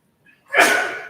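A single sharp sneeze, close and loud, preceded by a faint intake of breath, bursting out abruptly then trailing off.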